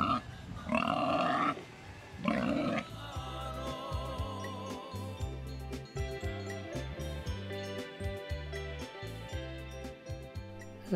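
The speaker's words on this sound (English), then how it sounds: "Quite a few pigs." Pigs on Rarotonga grunt in a rapid series of low, rhythmic grunts close by, following two louder squealing calls at the start, with no voices.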